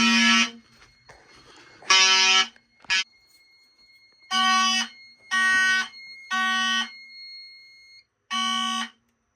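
A loud electronic fire alarm blares in repeated short horn blasts, pausing briefly between each, with a steady tone lingering underneath.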